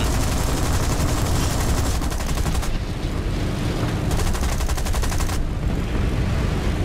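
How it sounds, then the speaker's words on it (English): Tank cannon and machine-gun fire in the War Thunder video game during a beach battle, dense rapid bursts of gunfire over loud continuous engine rumble, sustained throughout. "Lower the throttle on my tank. Begin opening fire on them."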